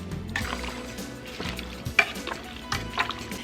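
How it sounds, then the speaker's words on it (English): A spoon stirs garlic powder, onion powder and black pepper into a pot of pozole, soft repeated scraping and sloshing strokes with a light sizzle underneath and a couple of sharper clinks. "Stir those in."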